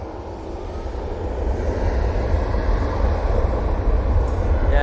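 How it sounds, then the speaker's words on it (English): A Ryanair airliner arriving from Faro at Manchester Airport gives a steady, building jet rumble, loud and continuous, with no voices clearly heard. "Coming over the road, we've got the Ryanair coming in from Faro."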